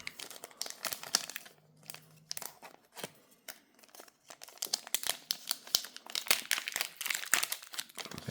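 A Topps Paris Saint-Germain Champions League card pack is torn open, with quiet, scattered crinkling and ripping of foil wrapper in irregular bursts that grow busier and denser toward the end.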